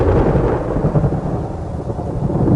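Heavy rain and rolling thunder on the African savanna, a loud, continuous deep rumble with a dense patter of downpour throughout and no voices.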